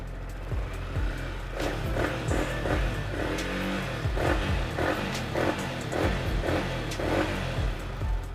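A 2019 Yamaha R15 sport motorcycle idling close by, its engine running in a steady mid-pitched hum with a regular pulsing beat and no voices.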